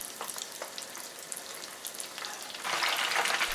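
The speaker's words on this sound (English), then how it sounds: "First, fry the spring rolls at 150 degrees Celsius for 5 minutes." Spring rolls deep-fry in oil at 150 °C, giving a dense, continuous bubbling sizzle with fine crackles throughout, growing noticeably louder and brighter toward the end.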